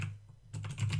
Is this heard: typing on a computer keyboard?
yes